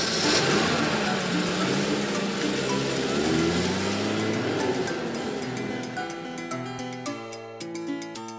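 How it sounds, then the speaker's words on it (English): A steady engine drone rumbles throughout, loud and close, with a low mechanical hum that eases slightly toward the end as tonal sounds come in. "Vintage car."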